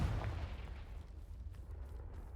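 A Confringo fire spell blast in Hogwarts Legacy: a deep booming explosion opening loud, then decaying into a crackling, rumbling tail at moderate volume, with no talking.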